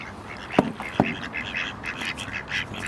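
Ducks on a park lake quack in a rapid series of short nasal calls, with a couple of sharper, louder quacks near the start, close by and otherwise quiet.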